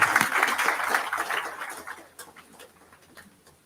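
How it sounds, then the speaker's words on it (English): Audience applause at a startup policy workshop in Madhya Pradesh, a dense burst of clapping that starts loud and gradually thins and fades over a few seconds. "Everyone, please give a huge round of applause."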